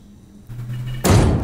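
In the horror game Alone in the Dark (2024), a door creaks briefly and then slams shut with a sudden, loud, close thud.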